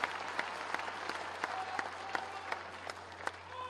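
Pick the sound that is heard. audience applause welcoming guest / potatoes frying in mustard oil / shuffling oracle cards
audience applause welcoming guest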